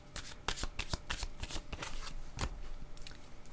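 A deck of playing cards is shuffled close up, a rapid series of crisp riffling bursts and snaps repeating throughout.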